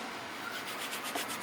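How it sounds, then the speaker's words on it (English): Sandpaper scuffing the painted body panel of a Nissan S13 Silvia, a steady, soft abrasive rubbing with faint rhythmic strokes, close and alone. "Alright, I'll start scuffing. Sandpaper. Needs sandpaper."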